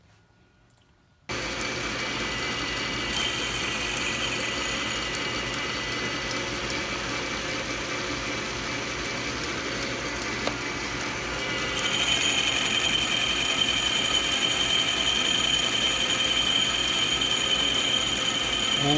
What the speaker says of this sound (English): I'm gonna mill this down until it's nice and clean.